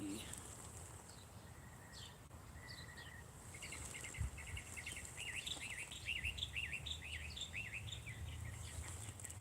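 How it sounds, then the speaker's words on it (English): Birds chirp and call repeatedly in woods, with a dense run of quick warbling notes building in the second half over steady insect buzzing and low background rumble. "Sounds beautiful. I love the birds."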